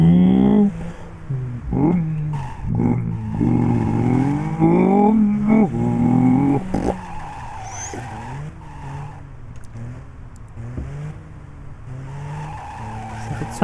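A powerful muscle car engine in the video game Driv3r revs and roars with rising and falling pitch, tires squealing at times, loud and close before settling to a lower idle.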